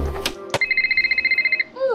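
Telephone ringing in a Nancy Drew mystery video game, a rapid pulsing electronic trill of evenly spaced beeps lasting about a second, loud and close, preceded by a few clicks and followed by a short musical tone.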